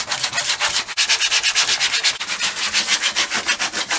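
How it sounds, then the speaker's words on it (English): Rhythmic back-and-forth sanding scrapes across an RV bathroom surface being roughed up before priming, a fast steady series of close, loud abrasive strokes with no talking. "Next we're going to go ahead and get to sanding."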